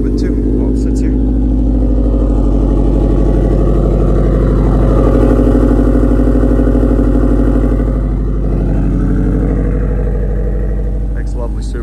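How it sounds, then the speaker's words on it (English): A 2018 Subaru WRX STI idles steadily at close range, its low rumbling engine note continuous and even throughout, with a slight swell partway through before settling back. "Makes lovely Subaru noises."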